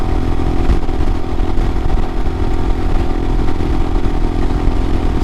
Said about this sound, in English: I can roll on the throttle and I get engine noises and acceleration instead of a big bob